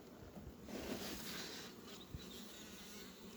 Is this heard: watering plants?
no